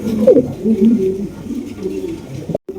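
Pigeons coo in low, throaty bursts, close by, with a soft rolling rhythm and a brief drop to silence near the end.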